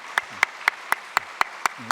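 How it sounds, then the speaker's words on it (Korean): A church congregation at a Sunday worship service claps in a steady rhythm of about eight distinct claps. The clapping is close and moderately loud, with no voices over it. "축하의 박수를 부탁드립니다"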